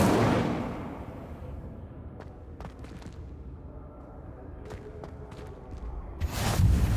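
The Incendio fire spell is cast in Hogwarts Legacy: a whooshing burst of flame opens the moment, followed by several sharp crackling snaps and a second roaring flare at the end, with no talk.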